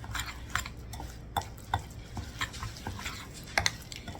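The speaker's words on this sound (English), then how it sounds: "Stir it up a little bit, see if that's" Beer batter for fish and hushpuppies being stirred in a bowl, with irregular soft scrapes and light utensil clinks against the side, close and fairly quiet, no voices.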